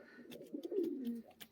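A Bhopal pigeon gives a single drawn-out rolling coo, close and fairly clear, set among faint clicks and shuffles inside a loft, with no talking.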